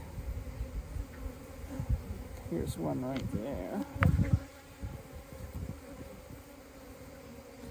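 Honey bees and drones buzz around an open hive during an inspection, a low continuous hum with a few closer passes, while someone talks briefly.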